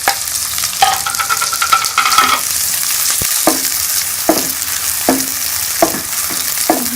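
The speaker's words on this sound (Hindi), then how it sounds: "मैंने ये घी को गर्म करिए, इसके अंदर अब प्याज डाल के इसको ब्राउन कर लूँगी।" Onions browning in hot ghee in a pan, a loud close sizzle with repeated rhythmic stirring scrapes and clinks of a spoon against the pan about once a second.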